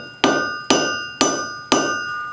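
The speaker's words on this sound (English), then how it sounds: "Now let's test it. Hammer on the side over there." A hammer strikes the corner of a freshly forge-welded steel piece in a blacksmith setting, four sharp ringing metallic blows spaced about half a second apart, each leaving a bright sustained ring that decays before the next.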